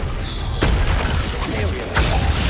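A Confringo blast spell in Hogwarts Legacy bursts with two sharp explosive cracks, one near the start and one toward the end, over busy rumbling game action and background effects.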